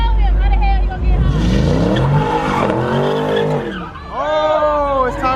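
Car at a Raleigh street car meet squealing its tires and skidding, loud harmonic screeches sweeping up and down over engine roar, with voices shouting throughout.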